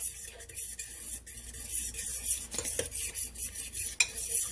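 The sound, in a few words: stirring ranch chicken sauce in a crockpot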